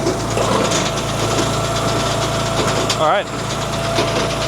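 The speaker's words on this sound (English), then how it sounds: "We're gonna turn the cleaner on." Wolfe Ridge DC-10C disc cleaner for firewood running alongside a conveyor, giving a steady loud mechanical engine drone with vibration throughout, and a brief voice speaking over it.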